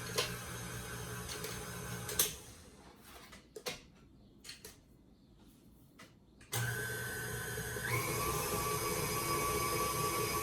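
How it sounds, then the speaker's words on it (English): An electric mixer creams the ingredients for oatmeal craisin cookie dough, its motor whining steadily. It stops for a few seconds of quieter clatter, then starts again, louder and constant. "I'm going to continue creaming those together"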